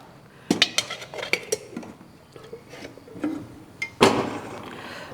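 Prawn masala with salt, turmeric and a little coconut oil is stirred in a heavy cast iron kadai, giving scattered metallic scrapes and clinks of a utensil against the pan, close and irregular, ending in a louder clatter.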